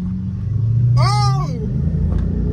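A Chrysler 300 engine revving nearby, a loud rising rev that peaks and falls back over a steady low rumble of idling cars, with a voice briefly shouting over it.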